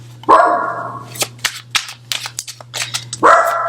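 A dog barks repeatedly and sharply, close and loud, at kids playing outside, with a long howling yelp at the start and another at the end between a quick run of shorter barks.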